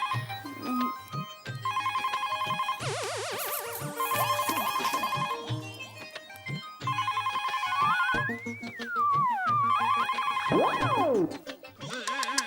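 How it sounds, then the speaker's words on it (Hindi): A phone ringtone plays repeatedly, a looping electronic melody with beeping tones and warbling sweeps, moderately loud and without talk. "फोन बज रहा है।"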